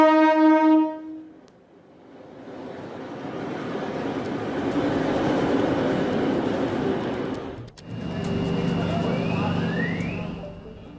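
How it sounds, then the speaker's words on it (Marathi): A hydrogen-powered passenger train on the 89 km Jind–Sonipat line runs past with a steady, loud rumble of wheels on rails, preceded by a brief horn-like tone and followed by a quieter rolling passage. "जिंद ते सोनीपत या 89 किलोमीटरच्या मार्गावरती हायड्रोजन ट्रेन धावेल"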